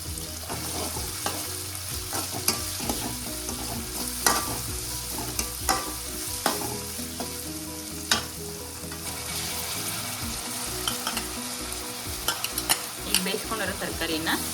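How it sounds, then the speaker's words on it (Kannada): Boiled carrots, beans and peas are stir-fried in a pan, giving a continuous sizzle broken by frequent scraping and clinking stirring strokes, close and moderately loud, with no talking. "ಕ್ಯಾರೆಟು, ಬೀನ್ಸು, ಬಟಾಣಿ ಬೇಯಿಸ್ಕೊಂಡಿರೋದನ್ನ ಸ್ವಲ್ಪ ಫ್ರೈ ಮಾಡ್ಕೊಳ್ಳೋಣ ಅಂತ"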